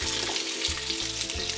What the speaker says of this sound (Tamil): இப்போ வந்து முருங்கைக்காய் போட்டுக்கிறோம்